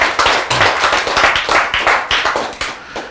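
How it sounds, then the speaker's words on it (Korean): A group claps steadily together, a brisk even run of hand claps with no talking. "박수."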